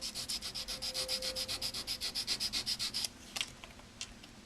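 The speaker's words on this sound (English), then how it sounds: "So I'm scratching up my work image." Paper images are scratched on the back with about twenty quick, rhythmic rubbing strokes, close and fairly quiet, followed by a few scattered scrapes.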